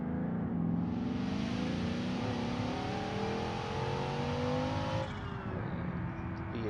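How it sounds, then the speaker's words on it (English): A V8 car engine in the BeamNG driving game revs and pulls steadily under load, a loud continuous roar with rising and shifting pitch, briefly dipping near the end, with no talk over it. "The V8 sounds so good in this."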